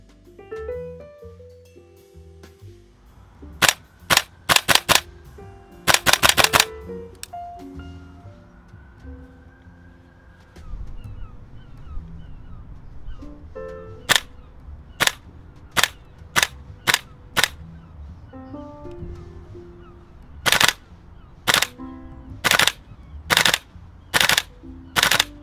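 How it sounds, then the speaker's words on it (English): GHK Colt M16A4 gas blowback airsoft rifle firing outdoors, sharp loud cracks in single shots and quick short strings with pauses between, spaced across the clip with no talking. "Firing this M16 is awesome. You get more of a twang of the spring with every shot"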